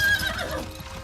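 A horse whinnies in a short high cry over rumbling background noise in a battle movie scene near a stable.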